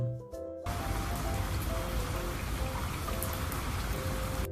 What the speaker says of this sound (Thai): และวันนี้เองฝนก็ได้ตกมาอย่างชุ่มฉ่ำ